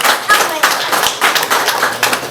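People at a Rwandan community remembrance gathering clap in uneven bursts, with rhythmic thuds and taps mixed with voices speaking over the applause.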